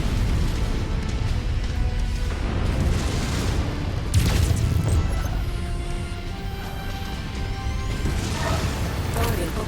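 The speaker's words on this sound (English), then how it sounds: "Critical explosion imminent." A mech blowing up in the MechWarrior 5 video game: heavy booming explosion rumble and crashing debris sustained over several seconds, loud and dense, with synthesized game voices talking over the noise.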